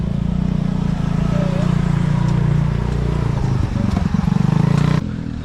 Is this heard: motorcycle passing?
yes